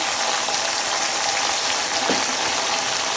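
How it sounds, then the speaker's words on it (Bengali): Chopped onions hit hot oil in a pot just used for frying chicken, producing a steady close sizzle and bubbling hiss that runs evenly throughout, with no talking. "যে হাঁড়িতে আমি চিকেন ভেজেছিলাম, সেখানে আমি কেটে রাখা পেঁয়াজগুলো দিয়ে দিলাম।"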